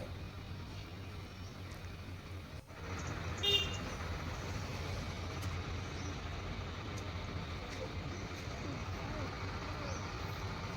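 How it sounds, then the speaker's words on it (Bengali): Steady road noise fills a traffic jam at a railway gate where vehicles wait for a Siliguri train, with one short car horn toot early on and a constant low engine drone throughout. "এসে জ্যামে পড়লাম রেলগেটে শিলিগুড়ির ট্রেনটা এখন ঢুকবে"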